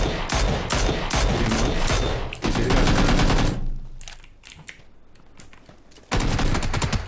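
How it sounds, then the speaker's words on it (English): Rapid automatic gunfire from a video game rattles in loud bursts, with a longer volley, a quieter stretch of scattered distant shots, then another loud burst near the end. "Fired some random bullets."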